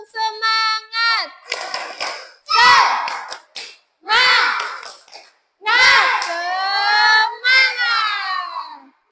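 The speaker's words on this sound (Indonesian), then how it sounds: "Kita tepuk semangat dulu." Schoolchildren in a classroom shout the 'tepuk semangat' chant together in short bursts, with rhythmic group clapping between the lines. The sound is loud and near.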